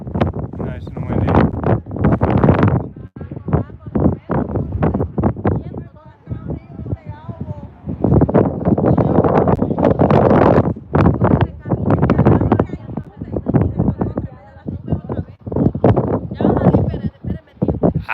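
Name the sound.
wind blowing into microphone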